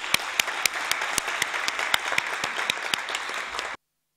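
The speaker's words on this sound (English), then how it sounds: "Please, let's welcome Ambassador Ash with a round of applause" An audience at a closing ceremony applauds to welcome the chair. The clapping is steady and even, with sharp individual claps standing out, and it stops abruptly.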